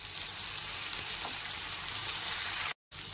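Small splash of water hitting hot spiced pointed gourd in a pan, giving a steady close sizzling hiss with fine crackle that runs throughout, broken by a brief gap of silence near the end.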